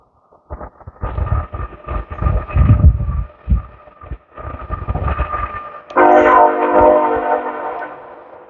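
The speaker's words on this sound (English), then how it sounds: "And there's a train, as always." A passing train rumbles and clatters at moderate distance, its noise rising and falling, then a loud sustained horn blast sounds for the final couple of seconds; spring outdoor setting in Oklahoma.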